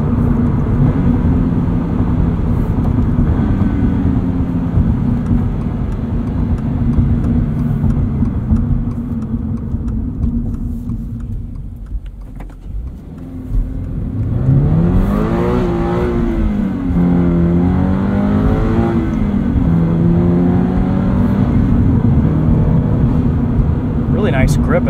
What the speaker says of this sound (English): On concrete here, about 76, 77 miles per hour. There's still a little bit of tire noise.